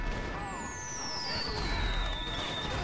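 Fireworks in GTA 5, a rocket's whistle falling steadily in pitch over a busy, noisy game scene.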